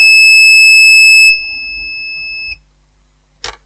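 A multimeter set to diode test mode gives a loud, steady beep for about two and a half seconds while probing a laptop motherboard, then falls silent; a short clunk follows.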